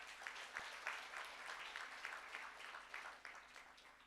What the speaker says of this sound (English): Let's give Mr. Mabinya another round of applause